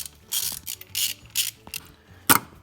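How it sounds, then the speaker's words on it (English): A ratchet tightens the valve cover bolts on an Audi A4 B7 2.0T in close, quick bursts of clicking, about five short runs separated by pauses. "Tighten the bolts starting from the inside and working your way out"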